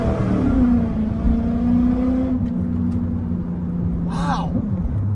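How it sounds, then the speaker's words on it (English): Chevrolet Camaro police car accelerating hard through second gear, a steady loud engine drone rising gradually in pitch, with a short squeal near the end. "This thing just rips through second gear."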